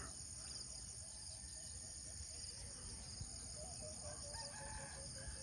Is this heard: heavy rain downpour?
no